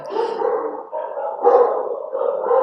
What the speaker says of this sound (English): and there's the dogs